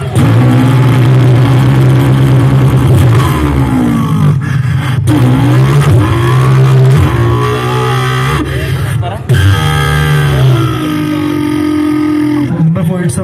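A boy vocally imitates a KTM motorcycle engine, voicing loud, continuous revving roars with rising and falling pitch sweeps and brief breaths between bursts, close to the listener.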